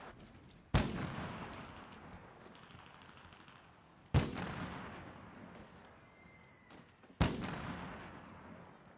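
Gunfire in the shooter game Call of Duty: Warzone: three loud, booming shots a few seconds apart, each ringing out into a long fading tail, with no voices.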